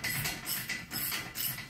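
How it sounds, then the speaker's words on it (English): Impact gun running in reverse to chase tight bolt threads during front brake work on a VW Touareg, giving a steady rattling, ratcheting buzz that pulses in short bursts, close up and fairly quiet. "With a gun, so you can clean up the threads like this by reversing it."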